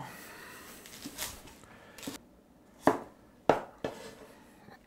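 Knife chopping leek and ginger on a board in a home kitchen, a few sharp, separate cuts at irregular intervals, close and fairly quiet against a soft background.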